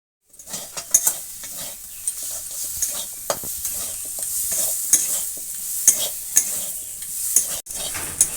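Chicken filling for bread chops frying in a pan, with continuous sizzling and repeated scraping stirs of a utensil against the pan, close and steady.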